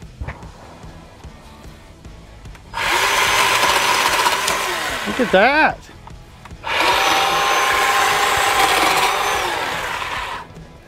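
Bauer 20V cordless chainsaw cutting small tree limbs outdoors, two loud, close bursts of whining motor and chain cutting through wood separated by a short pause, with brief talk in between.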